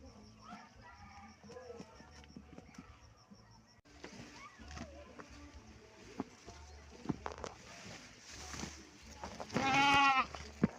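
Goats are brought fodder, and sparse farmyard sounds with light rustling lead up to one clear, loud bleat near the end. Someone talks at points throughout.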